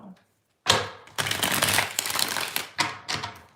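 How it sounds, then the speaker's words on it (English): Tarot cards are riffled in several loud, close bursts of fluttering shuffles, separated by short pauses. "3 more shuffles"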